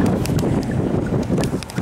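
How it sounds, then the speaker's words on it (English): Strong, gusty wind in Palm Desert, California buffets the microphone with a loud, continuous broadband roar that surges and dips over a couple of seconds, with no voices present. "Just wanted to show you the winds in Palm Desert."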